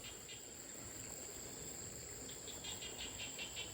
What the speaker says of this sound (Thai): เสียงกบเสียงเขียดพี่น้อง บรรยากาศดีเนาะ กลางทงนา